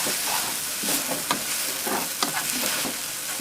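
Enoki mushrooms and egg stir-frying in a hot pan with a little low-sodium light soy sauce, a dense steady sizzle with scraping stirs of the spatula, close and loud, no voices.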